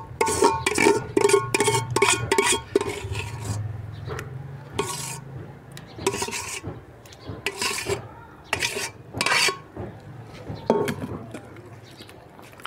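Dahi bhalla ingredients are being mixed in a bowl, giving repeated scraping, stirring and clinking strokes in irregular bursts with short pauses, close and moderately loud throughout.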